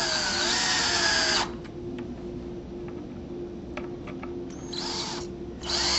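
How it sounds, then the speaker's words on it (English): A power drill drives screws into a Norman shutter frame during installation, one long whirring run at the start and a shorter burst near the end, loud and close, with quieter handling noises between. "countersinking and putting the screw"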